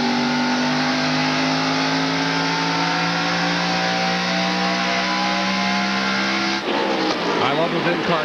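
A NASCAR stock car engine roars loud and steady from inside the car at full speed, holding a high drone before it shifts abruptly near the end. A commentator talks over the engine noise.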